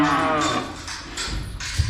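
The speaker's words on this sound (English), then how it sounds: "This is the heifers." Heifers on a farm give a low, drawn-out moo close by. A second, shorter lowing call follows in the background.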